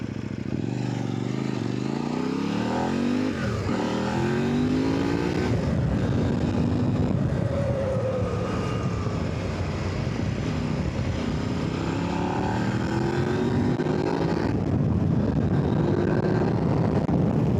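A Kove 800X Rally motorcycle engine runs loudly and steadily around 6000 rpm, its pitch rising and falling as the bike accelerates and eases off, close and continuous throughout.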